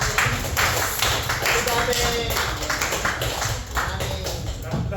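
A church congregation in Abu Dhabi gives a loud round of applause for the mothers at a Mother's Day service, with dense, continuous clapping over a low hum and possible voices underneath.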